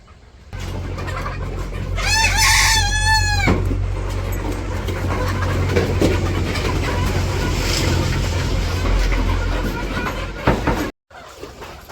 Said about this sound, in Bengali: তাহলে মুরগিরে খাবার দিয়ে নেই